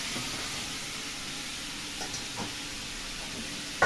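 Shukto vegetables fry in a little oil in a pan, giving a soft, steady sizzle and hiss throughout, faint and even, with a couple of light clinks near the end.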